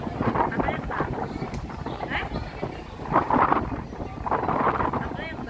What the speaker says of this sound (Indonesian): Udah ada angin.